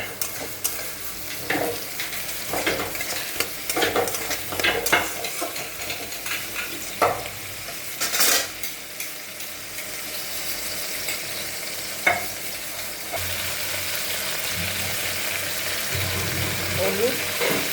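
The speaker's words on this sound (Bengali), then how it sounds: "মশলাটাকে আমি এখন ভালো করে একটু কষিয়ে নেব।" Ginger, cumin and green chilli paste masala fries and is stirred in a pan for fish-head khichuri, with a steady sizzle and scraping spoon strokes. Water briefly runs partway through, and a louder sizzle comes near the end.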